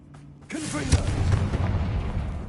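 A Confringo blasting spell goes off in the game Hogwarts Legacy, a sudden booming burst that rolls into a rumbling, crackling explosion, with a shouted voice at its start.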